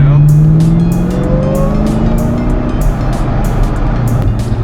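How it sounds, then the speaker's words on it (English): The supercharged V8 of a 2006 Ford GT roars and revs with a rising high-pitched supercharger whine on top, while a person talks over it. "a great V8 sound, but you also get this, it's accompanied by this great supercharger whine"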